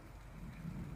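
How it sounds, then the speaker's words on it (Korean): Steady winter rain falls on the coast of Seosan and Taean in South Chungcheong, Korea, with drops gathering on red cornelian cherry berries. It makes a soft, even hiss with low rumbling and some wind-like noise, and no one speaks. "빗소리 들리나요?"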